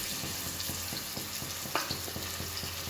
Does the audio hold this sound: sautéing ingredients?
yes